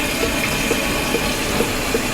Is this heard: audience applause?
no